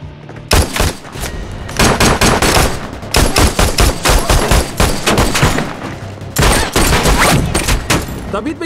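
Gunfire in a S.W.A.T. TV shootout with four suspects holding a hostage: loud, dense bursts of rapid automatic and repeated shots fill nearly the whole stretch, pausing briefly before resuming.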